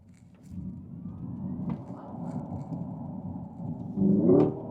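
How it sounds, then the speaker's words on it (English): Hyundai IONIQ 5N electric car playing its synthetic drive-mode sound, a low, steady engine-like hum and rumble that swells to a louder, brighter rising tone near the end, heard from inside the car. "So I'm going to try and get some sounds on for you."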